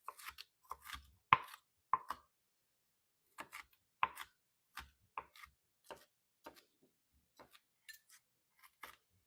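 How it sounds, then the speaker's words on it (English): Two or three bacon slices chopped with a knife on a cutting board, giving crisp, separate taps in loose clusters with short pauses between them, close and fairly quiet. "I'm going to say 2, 3 slices of bacon, and we're going to chop it up"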